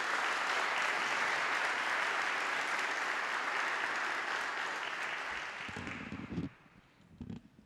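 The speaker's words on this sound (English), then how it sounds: "So please give them a round of applause." Audience applause at a Georgia Historical Society evening lecture event, a full, steady roar of clapping from a seated crowd that tapers off over the last couple of seconds, leaving a few stray claps and a brief voice.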